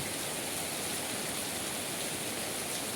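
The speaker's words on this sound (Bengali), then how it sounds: "প্রচুর পরিমাণে বৃষ্টি বৃষ্টির ফোঁটা অনেক বড়" Heavy rain with large drops pours down in Chuknagar as a dense, even, unbroken hiss with no voices.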